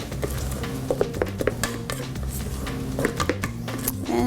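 A spoon works melted chocolate into cookie dough in a bowl, giving soft scraping and sticky stirring sounds with irregular clinks against the bowl, close and steady over a low background hum.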